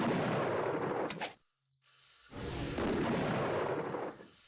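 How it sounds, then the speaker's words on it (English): Two harsh, gunshot-like blasts of the Blades earth spell in Might & Magic VIII, each a long, loud broadband burst. A short silent gap separates them, and there is no talk. "The gunshot sound is them casting the Blades spell, which is a mid-tier earth attack"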